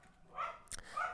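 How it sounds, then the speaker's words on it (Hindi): A dog barks twice in the background, faint and distant, with short, soft yelps about half a second apart during an indoor lecture. "कुत्ता भौंक रहा है"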